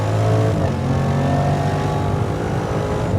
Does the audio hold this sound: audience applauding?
no